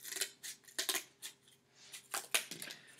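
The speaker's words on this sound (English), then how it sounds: "Let's cut them apart from each other." Scissors snipping through pool noodle foam, several short, quiet crisp cuts in an uneven rhythm, close by with no voice.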